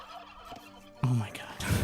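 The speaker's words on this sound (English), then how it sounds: "It's obviously a turkey." Turkeys in the strategy game Age of Empires 2 let out two loud, close gobbling calls, the second following about half a second after the first, over quiet game ambience with no talking.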